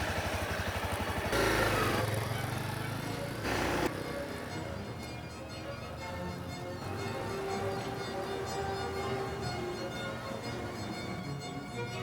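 Motorcycle engine ridden by a beginner, revving up, then dropping as the gears change, leaving a steady mid-pitched idle nearby with some clatter.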